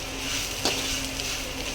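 Snacks with red chilli frying in a pan, a steady close sizzle and hiss of hot oil with a brief stir near the middle.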